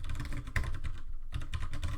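Code is typed on a computer keyboard in quick, close clicking bursts, with a short pause midway before the keystrokes resume.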